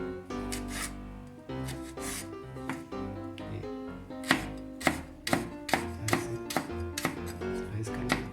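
A knife chops vegetables into small cubes on a cutting board for quick vegetable Maggi noodles: a run of crisp, rhythmic taps, slower and scattered at first, then a steady close sequence, over faint background music.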